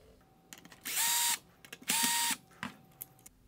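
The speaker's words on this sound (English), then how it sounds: "Next, I'll remove the two Phillips head screws holding in the AFS swivel motor." A tool backs Phillips head screws out of an Infiniti Q50 LED headlight assembly's AFS swivel motor, giving two short, loud whirring bursts about a second each, with faint clicks and handling noises between them.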